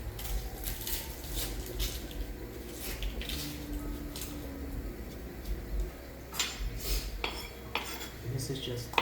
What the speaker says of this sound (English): Just cut these onions up.